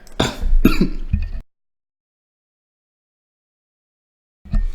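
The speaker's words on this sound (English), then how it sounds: "Excuse me, had to cough." A short, harsh cough or throat-clearing burst close up, two quick rasping bursts, then silence before a faint sound resumes.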